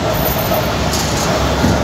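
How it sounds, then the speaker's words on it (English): A Mexico City metro train rolls past in Iztapalapa, a steady loud rumble of wheels and carriages filling the scene, with a brief higher whine partway through and no voices. "There's the metro."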